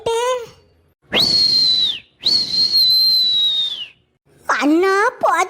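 A whistle blown in two long, shrill blasts, each about a second, loud and close, with brief vocal sounds before and after.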